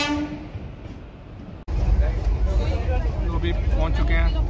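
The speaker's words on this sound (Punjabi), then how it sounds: "ਚੈੱਕ ਕਰੋ ਟ੍ਰੇਨ ਆਉਂਦੀ, ਇਹ ਆ ਚੁੱਕੀ ਆਪਣੀ ਟ੍ਰੇਨ।" A crowded passenger train pulls into a station platform on the Mohali-to-Jammu route: a sudden loud, sustained rumble of wheels and engine with faint horn-like tones, while people talk nearby.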